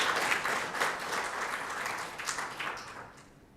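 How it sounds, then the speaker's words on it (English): An audience at a World Malaria Day event gives a round of applause, a moderately loud burst of clapping that gradually thins and fades toward the end. "I think David deserves a better round of applause than that, isn't it?"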